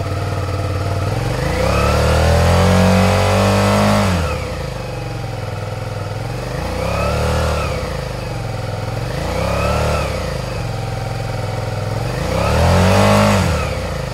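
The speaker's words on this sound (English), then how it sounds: "I'm just going to give it a bit of throttle to see if any of that changes." A Suzuki SV650 motorcycle engine idles close by, then revs up in several rising and falling throttle blips, loud and alone.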